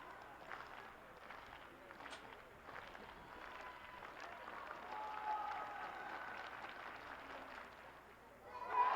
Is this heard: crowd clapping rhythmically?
yes